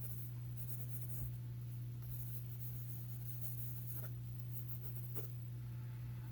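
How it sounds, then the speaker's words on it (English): Colored pencil scratching steadily across sketchbook paper at close range, a continuous dry rasp with faint strokes, no voices. "I'm still drawing, but I'm using the colored pencil."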